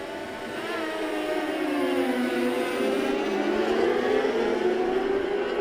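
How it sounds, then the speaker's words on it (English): Several sport bike engines roar and rise in pitch together as they accelerate away from a race start at the Autodrome, St-Eustache, Quebec, a loud, steady rising whine with no voices. "18 laps of sport bike racing await us"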